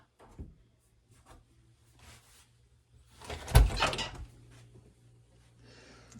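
A farmhouse door into the garage and workshop opens with a loud rattling thump and a scraping swing, preceded by a few soft knocks and footsteps, heard close by.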